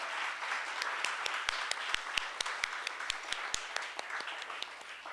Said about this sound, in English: one more round of applause for that amazing performance